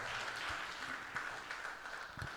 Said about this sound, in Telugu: నేను చప్పట్లు కొట్టి దేవుని మహిమపరుద్దాం.